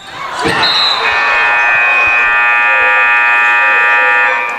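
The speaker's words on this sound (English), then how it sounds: "And a whistle and a foul at the buzzer." A loud sustained buzzer blares for several seconds in a gym at the end of a high school basketball game, right after a sharp foul whistle blast, with ball bounces and crowd noise beneath.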